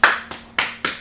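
Four quick careless hand claps from one person in a quiet studio, close and evenly spaced, each a crisp slap with a short ringing tail over a faint low hum.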